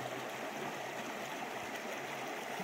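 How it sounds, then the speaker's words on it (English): A river stream rushes along the grassy banks of the Middle Fork John Day River in Oregon, a dense, steady wash of flowing water with no break and no voices. "the sound of rushing water in your ears"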